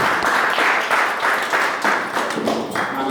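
Audience applause for a comedian at a stand-up show, loud and close, with waves of clapping that swell and dip in rhythm for a few seconds.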